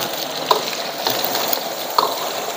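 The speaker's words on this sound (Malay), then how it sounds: "ya kita goreng dulu" Steady hot-oil sizzling crackles continuously as chicken liver, heart and gizzard fry in a wok, with a couple of sharp metallic clinks from a utensil against the pan; no talking.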